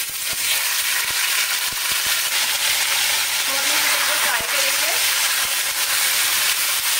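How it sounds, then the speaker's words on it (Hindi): Chicken pieces fry in oil in a pan, a steady loud crackling sizzle with a few sharp stirring taps and a brief squeal of movement midway, close up with no voices. "अब हम अपनी चिकन को फ्राई करेंगे।"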